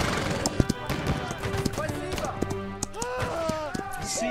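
Horse clip-clops and whinnies ring out in the musket-era battle game Holdfast, mixed with gunfire taps, tonal cries and a busy multiplayer din.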